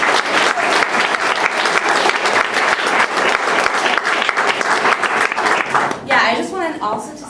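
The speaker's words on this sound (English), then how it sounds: "Give them another round of applause." Panel audience at a transmedia meetup giving a round of applause: dense, sustained clapping from a crowd that fills the room, then thins and fades out near the end.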